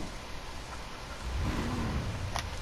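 Engine of the Declasse Drift Yosemite Hoonitruck starting up in GTA Online, a low rumble rising as it catches, moderately loud over a steady background hiss.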